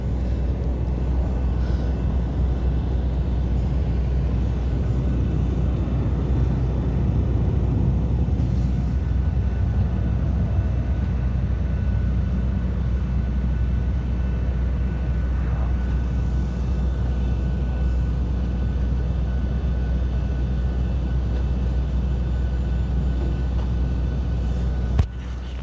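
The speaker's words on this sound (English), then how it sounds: "I think we might have an aircraft landing, considering this Binter hasn't moved." At Madeira airport, a steady distant rumble of aircraft engines drones on for many seconds, low and continuous, with a landing plane approaching faintly beneath the broad airport noise.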